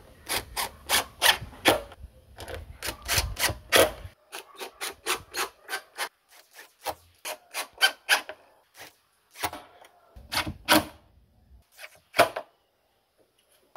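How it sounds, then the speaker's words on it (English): Subwoofer being screwed down onto a wooden enclosure board, a run of sharp rasping, scraping strokes in quick irregular bursts, close and fairly loud, with short pauses between groups. "But for here now, we're just going to screw down our subwoofer normally."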